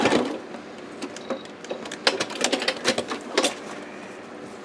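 A sewing machine stitches a zigzag over a beach-landscape thread painting, giving a close run of quick mechanical whirring and ticking bursts that rise and fall with the stitching.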